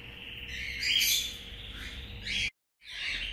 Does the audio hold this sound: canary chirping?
yes